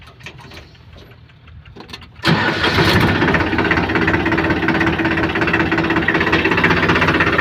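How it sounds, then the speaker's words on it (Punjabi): After a quiet moment with faint knocks, a tractor engine suddenly roars to life and keeps running loudly at a steady idle. "ਚੱਲਦੇ ਆਪਾਂ ਉਧਰ ਲੈ ਕੇ ਟਰੈਕਟਰ"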